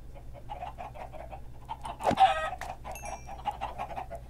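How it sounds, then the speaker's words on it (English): Many chickens cluck repeatedly in Minecraft, a rapid, overlapping run of short clucks with one louder sharp burst midway, over a low steady hum. "Tons and tons of chickens."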